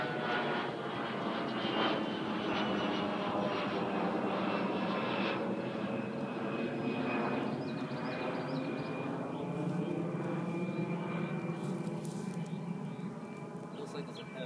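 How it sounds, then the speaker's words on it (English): A CRJ regional jet at JFK airport drones with a steady, buzzing engine whine that shifts slowly in pitch as it moves, fairly loud and continuous, with people talking faintly beneath it. "Man, this is that engine sound. Buzzing."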